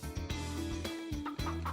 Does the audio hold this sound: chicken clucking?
yes